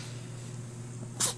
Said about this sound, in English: She actually sneezed over me.